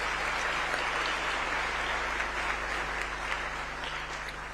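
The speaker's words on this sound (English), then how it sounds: "Another round of applause for His Excellency and all the speakers." Audience applause at a regional health summit meeting: dense, steady clapping from a large hall crowd, loud and continuous throughout before tapering slightly near the end, with a low hum underneath.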